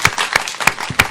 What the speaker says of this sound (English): A rousing round of applause for you,